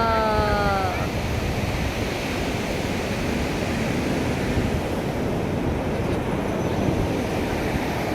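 Ocean waves at Puri beach, a loud continuous roar of surf washing in close by, with a brief faint voice-like tone at the start.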